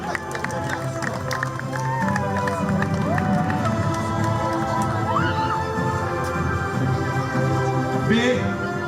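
An audience applauds at the Pro Beach Tour Mersin award ceremony: steady, dense clapping and crowd noise run throughout, with an announcer speaking over it on a loudspeaker.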